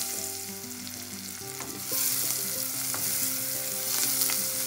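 Red pearl onions frying and being stirred in hot oil with popping mustard seeds for a green moong dhal curry. The sizzle is steady and close, swells louder about halfway through, and carries faint crackles over a low background hum.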